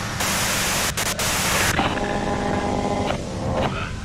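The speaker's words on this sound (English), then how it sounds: "If you've got something really important to say, you can do it through the white noise." Loud broadband radio static hisses from a radio in the video game Disco Elysium, cutting out briefly and then settling into a softer crackling hiss with faint tonal hum.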